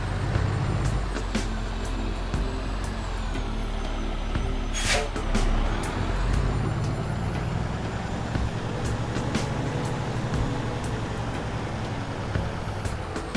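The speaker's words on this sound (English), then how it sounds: "I kind of want to get the truck a little straightened out here." Heavy truck maneuvering in American Truck Simulator, a steady engine drone filling the whole stretch with a brief hiss like an air brake near the middle and faint background elements.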